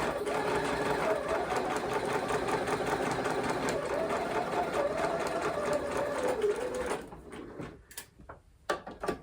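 Sewing machine stitching fabric at a steady fast rhythm, loud and close for several seconds, then stopping abruptly and leaving a few faint clicks and handling noises.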